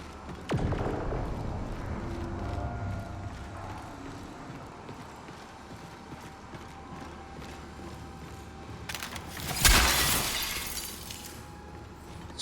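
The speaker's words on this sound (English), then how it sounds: "Smash glass." Glass being smashed in the video game Marathon: a single bright, loud shattering crash near the end, following a stretch of quieter game ambience and footsteps.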